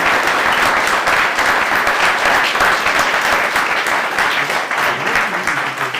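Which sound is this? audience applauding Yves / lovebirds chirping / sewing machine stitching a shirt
audience applauding Yves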